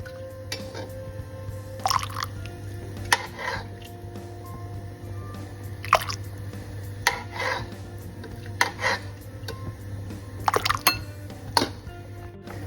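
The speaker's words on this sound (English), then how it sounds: "I take some curry out of the sambar and pour it into this glass in which we had the tamarind juice." Sambar curry is ladled out of a pot and poured into a glass, making intermittent liquid splashes and soft clinks of utensil on vessel over a steady low hum in a kitchen.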